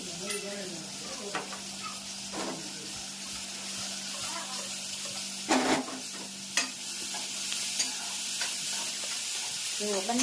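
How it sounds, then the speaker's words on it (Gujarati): Tempering (vaghar) sizzles in pans on two gas burners, a continuous close frying hiss with stirring clatter, spoon knocks and occasional voices in the background. "વઘાર એક સાથે થાય છે બે ગેસ ચાલુ છે"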